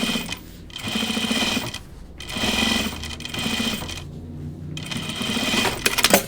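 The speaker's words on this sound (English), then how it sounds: "And then turn it, and top stitch it down." A sewing machine topstitching jeans runs in steady bursts of rapid, even needle clatter, pausing briefly between runs, close and clear with no talk.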